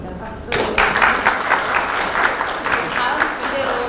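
An audience applauds steadily after a student group's presentation at a Seoul medical school organ donation education session, clapping starting abruptly and continuing dense and even throughout.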